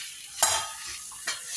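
Roasted eggplant with garlic mashed in a pan for bharta, two brief soft squelching presses with a faint hissing background, quiet and close.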